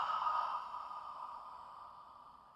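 A long audible exhale during a floor exercise, a soft airy breath that starts strongest and slowly fades, close and quiet with no talking.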